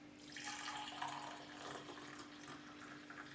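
A drink is poured into a glass, a faint continuous liquid stream running for several seconds over a low steady hum.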